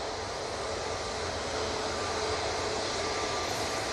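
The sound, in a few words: EasyJet airliner on short final approach at Manchester Airport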